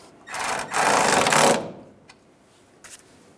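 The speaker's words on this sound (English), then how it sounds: "And we'll tighten that down." A ratchet or power tool whirs in two short bursts while a ground strap bolt is tightened on a 1999-2006 Chevrolet Silverado during fuel pump replacement, followed by quieter clicks and a faint tap.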